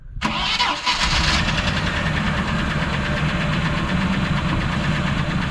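A Land Rover Discovery 1 engine cranks briefly and catches, then settles into a loud, steady, slightly rough idle heard close up with no talking.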